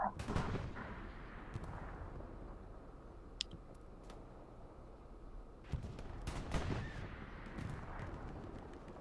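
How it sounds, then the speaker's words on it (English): Tank and anti-tank gun fire in a Hell Let Loose battle around Carentan: scattered sharp booms and cracks, a few close and loud, with a distant rumbling din of combat between them. "it looks like a tank battle might be happening here. Or an AT gun at least"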